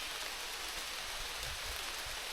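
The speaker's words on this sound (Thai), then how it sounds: "โอ้ฝนก็เริ่มตกอีก" Rain falls outdoors in cold weather, a soft, even hiss of drops that stays faint but constant throughout, with no voices.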